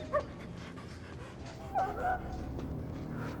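A dog whimpering and letting out short yips during a fight in a warehouse, with a few sharp high cries standing out over a steady noisy background.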